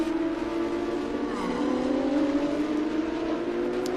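Race cars at Circuit of The Americas make a steady, loud engine whine that rises in pitch as they accelerate side by side, with no talking.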